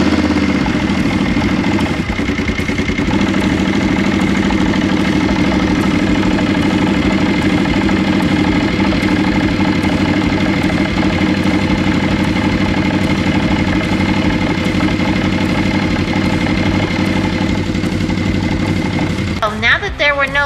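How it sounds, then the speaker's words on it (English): A CFMoto ZForce 800EX side-by-side engine idles steadily and close by after a fuel filter service, a constant low rumble with a brief rev or shift near the end. "we're going to start the engine and check for leaks."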